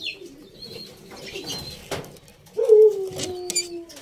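Pet African lovebirds in an aviary with their three healthy chicks, giving short chirps, soft coos and a brief flutter of wings, with a louder call near the end.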